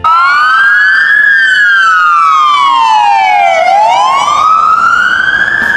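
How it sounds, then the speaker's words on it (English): Toy police car siren wailing loudly and close, a smooth electronic tone sweeping slowly up and down in long glides with no voices over it. "This is a police car."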